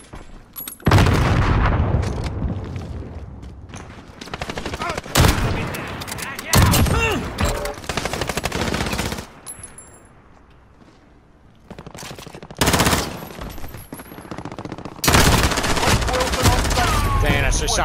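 Call of Duty World at War iron-sight gunfire with a Kar98k on the Road to Damascus map: repeated loud gunshot bursts and booming blasts in clusters, separated by brief quieter stretches, with a voice speaking over the action.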